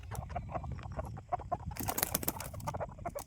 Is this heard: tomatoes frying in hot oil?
no